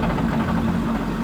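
A 1000 hp-plus 2JZ engine idles steadily while a custom ACT twin-disk clutch is eased out, a close, constant low rumble and hum with no distinct change.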